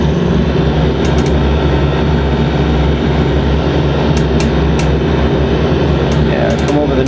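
Trike ultralight aircraft engine in a flight simulator game, a loud steady droning hum sustained throughout with faint clicks on top, while someone talks over it.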